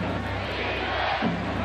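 Arena crowd noise at a 1997 NBA playoff game between the Hornets and Knicks, a steady roar of murmuring fans with a swelling shout near the end, no clear voices standing out.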